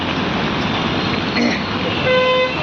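Vehicles driving along a flooded road in Nashik during torrential rain, a steady broad wash of rain and traffic noise with a passing horn toot near the end.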